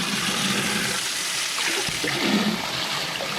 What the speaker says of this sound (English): this is just straight cold water that I'm draining the tank with